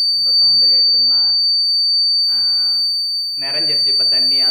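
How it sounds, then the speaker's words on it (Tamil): A water tank overflow alarm buzzer sounds a steady high-pitched electronic tone continuously as the tank fills, while a person talks over it in bursts. "நிறைஞ்சிருச்சு இப்போ தண்ணி, அதனால் சவுண்டு கொடுக்குது"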